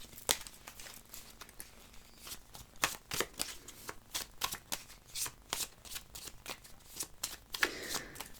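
Tarot cards are shuffled and cut by hand in a rapid run of crisp riffling flicks and papery slaps, close and fairly quiet, with no talk over it.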